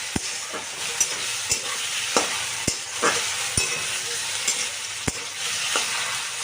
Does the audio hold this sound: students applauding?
no